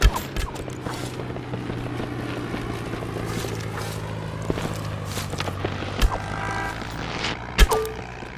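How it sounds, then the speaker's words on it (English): Propeller airplane engine droning in the video game Shotgun Farmers, a steady loud hum throughout with a few sharp clicks and thuds on top. "Well, Daniel really is a plane this time."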